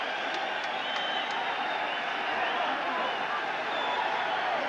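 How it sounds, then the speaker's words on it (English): A boxing crowd applauds a fighter after a knockout in a Barry McGuigan bout, a dense, steady wash of clapping and crowd noise held at an even level throughout. "taking the applause there from the lads"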